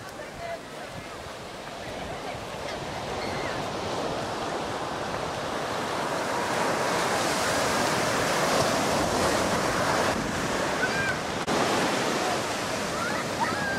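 Waves wash in on the beach at Ballesteros, Cagayan, a broad steady rush of surf that swells gradually louder over the stretch, mixed with wind, with no voices over it.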